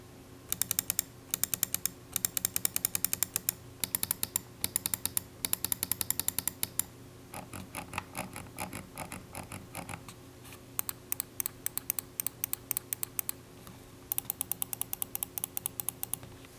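An Alienware AW610M gaming mouse clicks in fast, crisp bursts and rapid series, close up, with short pauses between groups and no talking.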